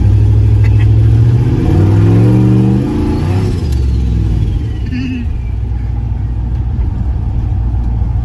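Engine of a turbocharged LS-swapped Caravan while driving, a loud close droning rumble that revs and climbs in pitch early on, then settles into a steady cruise hum.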